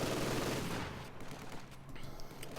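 Heavy machine gun fire from a Company of Heroes 2 battle, a loud dense burst of rapid gunfire at the start that thins into scattered shots and distant battle noise.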